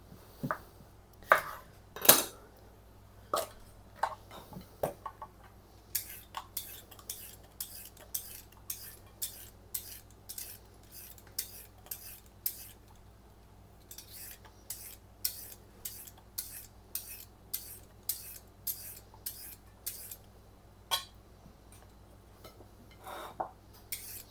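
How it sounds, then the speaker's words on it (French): Cucumbers have their ends cut off and are peeled in a kitchen, giving a fast, steady run of short, crisp scraping strokes with a few knife clicks at the start. The sound is close and continuous, with no talking. "On attrape nos concombres, on vient couper les extrémités et les éplucher."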